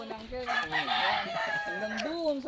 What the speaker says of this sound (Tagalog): Madami pa manok oh.